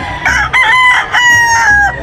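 A gamefowl rooster crows loudly nearby, with a second overlapping crow and some clucking fowl in the background.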